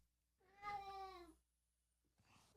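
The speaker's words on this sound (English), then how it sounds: "It's my sick cat." A sick cat lets out a single drawn-out meow, close and clear in a quiet room, followed by a faint softer sound.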